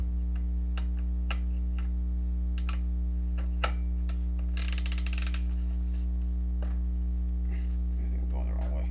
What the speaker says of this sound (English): These articulate so you can turn it like a wrench.